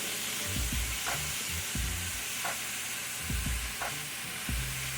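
Ground beef sizzling and frying in a pan for tacos, with a steady hiss and several louder bursts of scraping and stirring spread through the clip; no voices.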